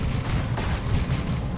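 Rapid dense gunfire and explosions from a Dreadnought auto cannon in the strategy game Dawn of War 2, a loud continuous barrage of heavy booms with no pauses.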